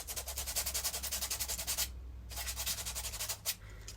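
Filler on a scuffed shoe being sanded by hand in quick back-and-forth rasping strokes, close and rhythmic, with one brief pause partway through.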